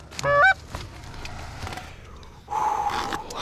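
Wild geese honk loudly overhead on a Thanksgiving morning hunt, a burst of calls followed by a longer stretch of honking as the flock circles and drops toward goose decoys.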